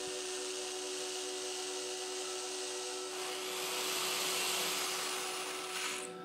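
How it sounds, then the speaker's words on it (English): A ceramic porcelain tea cup is drilled at an angle on a cushioning sponge, giving a steady high-pitched grinding whine that holds throughout and grows slightly louder and harsher partway through, with no talk. "I start drilling at a 45 degree angle without applying much pressure."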